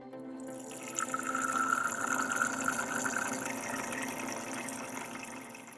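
A water flosser runs steadily throughout, a continuous close spray and hiss of water used while cleaning teeth, with no talking.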